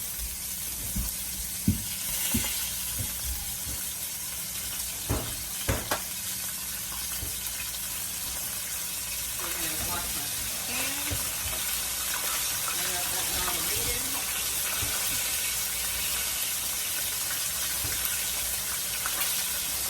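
Chicken frying in very hot grease, a constant loud sizzle with occasional clinks and pops, and a voice speaking faintly under it.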